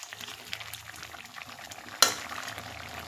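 A taro and pumpkin curry simmers and bubbles softly in a pot while being stirred, a quiet low burble broken by one sharp scrape of the spoon against the pot partway through.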